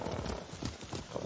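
Horse hooves clip-clop briefly alongside a faint whinny, over a dense rumbling background, in the video game Ghost of Tsushima.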